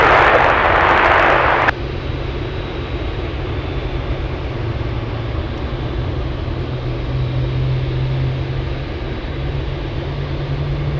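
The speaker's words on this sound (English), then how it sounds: "GE90s are starting up." GE90 jet engines of an EVA Air plane starting up at Anchorage airport, a loud broad roar that cuts off early, then a steady low rumble and hum with a rising whine, fairly distant.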